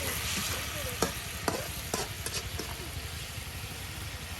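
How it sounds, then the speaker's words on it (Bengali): Spices fry in a pan in a rural village kitchen, a steady broadband sizzle with a few sharp clinks and scrapes of stirring, moderately close and without talk. "তার সাথে কিন্তু সব কিছু একদম ভাজা ভাজা করে নেওয়া হচ্ছে"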